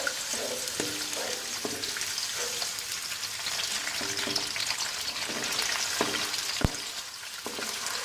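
Onions fry in hot oil in a pan, a continuous close sizzle punctuated by soft spatula scrapes and occasional sharp pops, with no talking.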